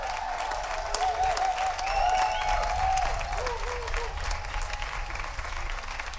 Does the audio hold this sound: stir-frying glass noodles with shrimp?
no